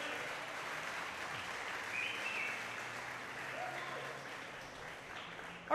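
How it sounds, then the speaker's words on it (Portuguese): Church congregation clapping in a steady, dense wash of applause that holds evenly throughout, with faint voices mixed in. "Dá um aplauso ao Senhor Jesus."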